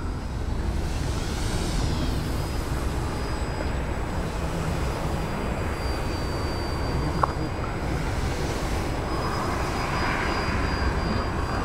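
A small EPP foam Edge 540 radio-controlled aerobatic plane flies on its maiden flight, its electric motor giving a steady high whine that rises and falls slightly in pitch as it passes through the air, with no voices.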